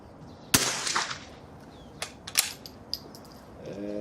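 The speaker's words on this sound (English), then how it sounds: "This is the Remington golden bullet high velocity." One sharp crack of a Remington Golden Bullet high-velocity .22LR round fired from a rifle, fairly close, followed by a few quieter mechanical clicks and handling noises, with a voice starting at the end.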